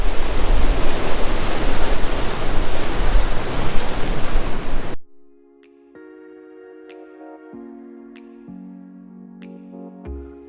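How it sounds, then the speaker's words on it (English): Ocean waves crash onto the shore on Madeira as a loud, continuous roar of surf and rushing water, then cut abruptly to near silence, followed by a slow sequence of sustained, descending musical notes. "I'm just trying to take the nice waves crashing."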